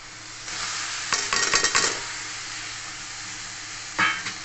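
Fried vermicelli being stirred in a pan for a simoi roll, a scraping, sizzling stir that swells in short bursts at the start and again near the end over a soft background hiss.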